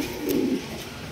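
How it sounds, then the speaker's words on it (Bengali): A single short, soft coo from a big Indian Bombay pigeon, heard close and alone. "মাশাআল্লাহ একদম বিগ সাইজের ইন্ডিয়ান বোম্বাই কবুতর দেখতেই পাচ্ছেন"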